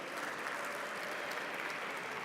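Steady applause from a school audience at Woodrow Wilson High School greeting the Wildcats on Wheels team, a dense, even wash of clapping that sounds somewhat distant and soft with no voices on top.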